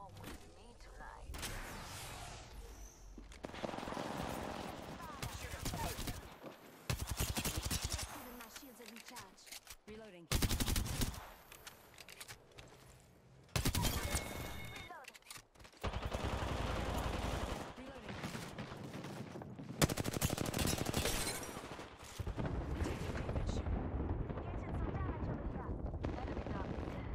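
Enemy gunfire in a video game, aimed at the player: bursts of rapid shots and blasts in uneven clusters, broken by short silent gaps, with game sounds between them.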